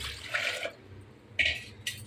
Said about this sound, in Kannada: ಇನ್ನೂ ಸ್ವಲ್ಪ ನೀರು ಹಾಕ್ತೀನಿ ನಾನು.